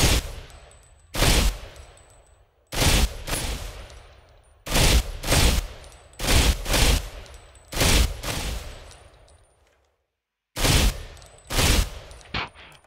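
Gunfire from a support class weapon in the online shooter Ghost Recon Phantoms, loud close bursts of rapid shots in short repeated volleys separated by brief pauses, with nobody speaking.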